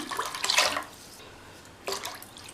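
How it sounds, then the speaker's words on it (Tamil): Water splashes and pours into a pot of South Indian kuzhambu in two short bursts, close by, with a quiet pause between them. "எக்ஸ்ட்ராவாக தண்ணி சேர்த்துக்கணும்"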